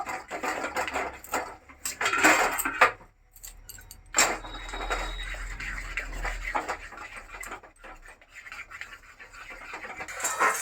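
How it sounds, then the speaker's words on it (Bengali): Bengali-style sweet, sour and spicy tomato pickle is stirred in a pan off the heat, producing repeated scraping and rubbing strokes with short pauses, close and fairly quiet, without speech. "আমি গ্যাসটা অফ করে দিচ্ছি, কিছুক্ষণ এইভাবে নেড়ে নেব।"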